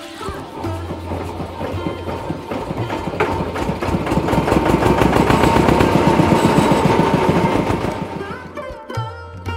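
A boat's engine chugs in a fast, rhythmic mechanical pulse at the start of a river trip to Sabuj Dweep near Kolkata, swelling louder through the middle before easing off near the end.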